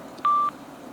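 A Sena Bluetooth motorcycle headset gives one short, clean electronic beep, about a quarter second long, over a faint background hiss, signalling a phone has connected.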